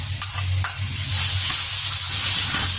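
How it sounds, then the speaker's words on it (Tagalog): Chicken lightly salted and frying in a pan for chicken pastel, a steady loud sizzle with a few soft stirring scrapes early on, no voices. "Hahaluin lang po natin hanggang sa mag-change ang color ng ating chicken"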